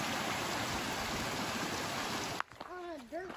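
A wide creek on a mountain hiking trail rushes in a steady, broadband wash that cuts off abruptly, followed by a short voiced sound.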